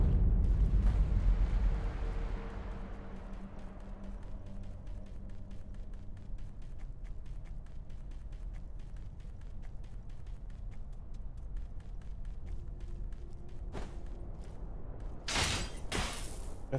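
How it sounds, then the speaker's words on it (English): Firecrackers bursting in Sekiro: Shadows Die Twice, a loud booming blast at the start that fades into a low rumbling game background, with a few sharp cracks and a bright burst of pops near the end. "That's firecrackers."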